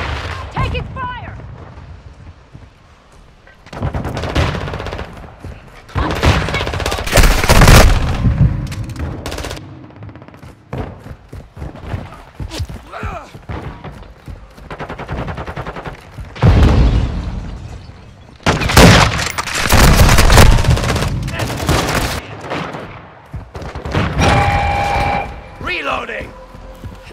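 Heavy gunfire in a Call of Duty-style military shooter during a headquarters capture, with bursts of automatic fire and booming blasts in loud clustered volleys, quieter stretches between and voices calling out over the action.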